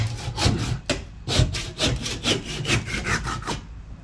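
Rhythmic strokes of a hand saw cutting through wood during through-hull installation on a sailboat, a steady back-and-forth rasp repeated about eight times, close and fairly loud.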